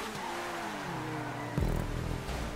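A car in a racing video game engine droning steadily, then a sudden louder burst as it brakes hard, with the engine note dropping afterward.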